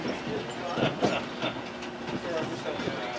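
A tram rolls along its tracks on a bumpy ride at a space center, giving a steady rumble with rattling clatter and occasional knocks, continuous and moderately loud throughout.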